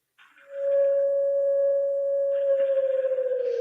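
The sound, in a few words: national emergency alert siren tone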